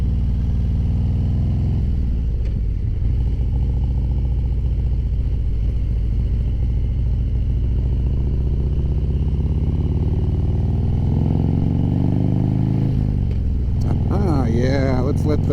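A 2018 Harley-Davidson Road Glide Ultra with a stage 3 upgrade cruises along a road with a steady, low engine drone under wind rush. Near the end the engine revs up, rising in pitch as it accelerates.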